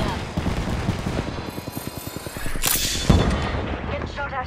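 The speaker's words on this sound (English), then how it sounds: "Getting shot at." Rapid video game gunfire crackles through a battle, a steady stream of sharp shots followed by a heavier burst, with speech mixed in.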